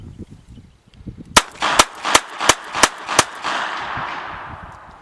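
Rapid string of seven sharp shots from a Röhm RG14 revolver, evenly spaced about half a second apart, followed by a fading hiss of echo; quiet room before the firing starts.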